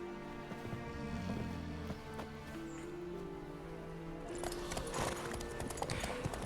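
Steady hoof clip-clops from a horse moving along in The Witcher 3 video game, set against a continuous musical background with some rustling, at moderate volume.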